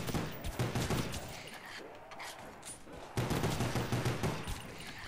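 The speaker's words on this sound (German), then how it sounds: "hier gibt's die MP40" Rapid bursts of MP40 submachine gun fire in Call of Duty: Black Ops Zombies, dense and crackling, with a brief lull in the middle before the firing resumes.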